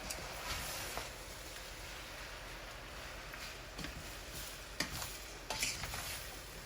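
Beef sizzles steadily in a hot pan for pancit bihon while being stirred, a constant frying hiss broken by a few sharp utensil scrapes and clicks against the pan.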